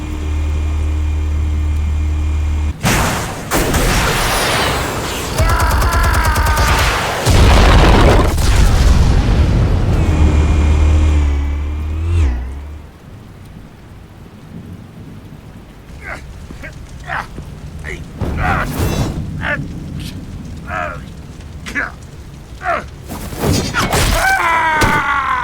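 Explosives detonating in Batman: The Telltale Series, heavy booms rumbling loudly through the first half, then fading into quieter scattered thuds and voices.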